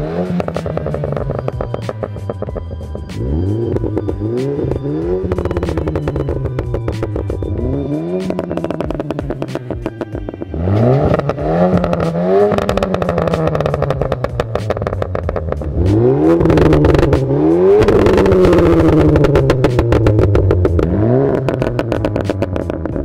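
A car fitted with Cobra Sport performance exhausts, resonated and non-resonated, revs hard again and again with rising engine sweeps and crackle. The sound is loud and close, with no talk.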